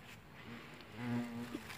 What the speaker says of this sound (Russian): Ой, оса.